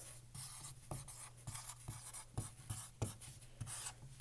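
A pen or pencil scratches words onto paper in short, quiet strokes, a rhythmic series of soft scrapes and taps heard close and alone.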